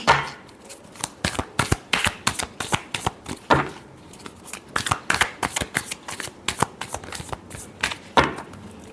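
A deck of tarot cards is shuffled by hand in a rapid series of crisp riffles and snaps. The bursts come in quick rhythmic runs with short pauses between them, close and clear, with no speech.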